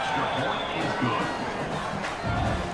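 Stadium crowd in the College Football 26 video game during a Delaware versus FIU match, a continuous loud roar of many voices with scattered shouts, heard under a commentator's talk.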